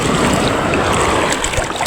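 Sea waves wash around a small fishing boat in mildly choppy water, a continuous broadband rush of water and wind noise, loud and close throughout.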